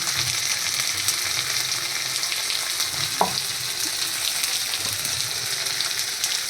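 Ground turmeric and Kashmiri chili powder sizzle steadily in hot oil for a vegetarian moong dal, with a single sharp clink partway through.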